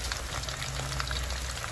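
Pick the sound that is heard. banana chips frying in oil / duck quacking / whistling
banana chips frying in oil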